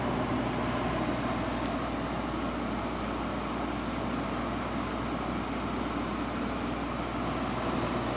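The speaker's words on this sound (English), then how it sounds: "the compressor is running now. It's a very quiet compressor." A GE 8,000 BTU window air conditioner with a Samsung compressor, running as a steady, dense hum and rush, close by and unchanging, with no talking.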